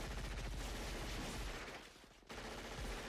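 Dense, continuous gunfire from a shootout in the Predator film, rapid machine-gun bursts forming a loud, unbroken wall of noise that dips briefly before resuming at full intensity.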